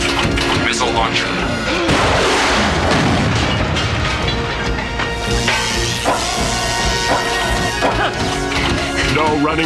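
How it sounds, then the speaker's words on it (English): A missile launcher firing in a RoboCop cartoon, loud booming blasts and crashing impacts packed densely together, with voices talking over the chaotic explosions. "Missile launcher."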